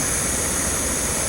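A Jetboil camping stove burner running with a steady, loud roaring hiss of gas flame, close and continuous throughout without any talk.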